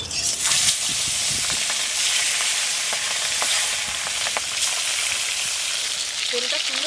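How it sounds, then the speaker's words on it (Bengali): Fish fry in hot mustard oil in a wok, with loud, close, continuous sizzling and spattering, broken by a few stirring scrapes. "কড়াইটা গরম হলে তেল দিয়ে প্রথমে মাছগুলো ভেজে তরকারিটা করে নেবো"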